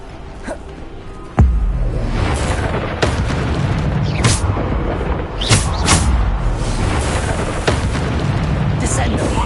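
Repeated Bombarda spell blasts in Hogwarts Legacy hit as loud booms, a sharp heavy impact near 1.4 seconds followed by more bursts around 2.5, 4.5, 5.5 and 6 seconds over continuous game noise.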